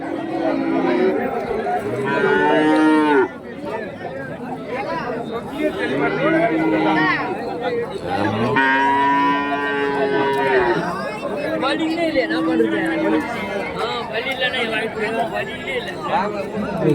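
Cattle, including calves and Jersey cows, at a busy Friday livestock market in Kundarapalli, Krishnagiri district, letting out occasional low moos amid constant crowd chatter and bargaining voices close by.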